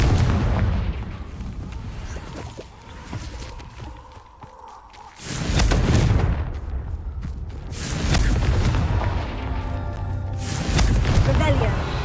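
Spell blasts from the Confringo fire curse in Hogwarts Legacy during a Merlin trial, several booming bursts in a row over a busy game backdrop with a short lull in between, loud and close.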